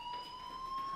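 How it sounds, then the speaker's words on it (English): A fire alarm sounds in the video game Life is Strange, a steady electronic tone held at a constant pitch with faint pulsing, continuous and moderately loud throughout the short stretch. "do you hear that fire alarm? That means you should be outside."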